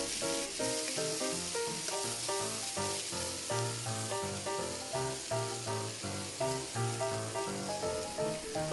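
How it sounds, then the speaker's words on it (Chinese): Pork belly sears in a pan to render its fat for Chinese braised pork, giving a continuous close sizzle with a soft rhythmic musical pattern underneath. "先煎一下，一来就是为了逼出里面的肥油，还有一点就是为了封锁住里面的肉汁。"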